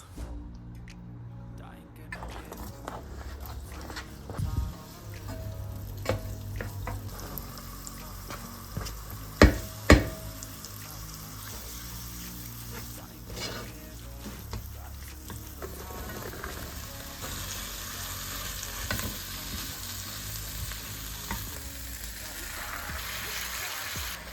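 Fresh green beans cook quietly in a pot with soft sizzling and bubbling, broken by occasional stirring scrapes and a couple of sharp knocks against the pot.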